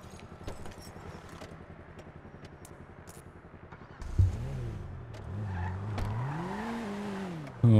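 A stolen car driven in a police roleplay video game, its engine droning steadily and then revving higher with rising and falling pitch, loud and close, with a brief sharp burst near the end.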